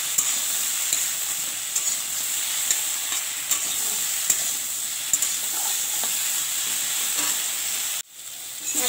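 Vegetables frying with turmeric in a pan, a dense continuous hiss and sizzle with faint stirring taps, close and steady until a sudden brief drop near the end.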